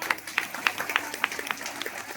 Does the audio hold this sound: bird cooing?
no